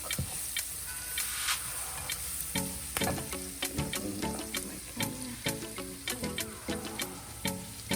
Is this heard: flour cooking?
yes